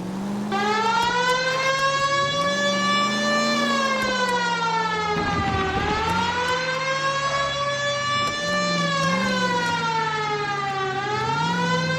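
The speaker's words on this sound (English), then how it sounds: "Please, Phelps, the siren." A wailing police car siren in the L.A. Noire video game rises and falls in long, slow sweeps, loud and close, sounding continuously with a short rumble partway through.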